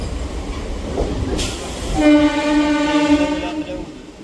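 A MEMU train at Godavari railway station in Rajahmundry sounds a loud, sustained horn blast over rumbling station ambience, nearby and clear for about a second and a half.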